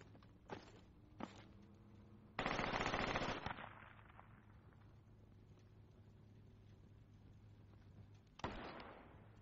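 Sniper fire in the FUBAR video game crackles at a distance: two sharp isolated cracks, then a longer loud burst with a fading tail, quiet stretches between, and one more report near the end.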